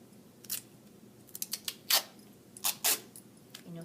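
Crisp, close snips of scissors cutting through a piece of duct tape: a few scattered cuts, then a quick cluster of sharp clicks and two louder final snips, with no talking.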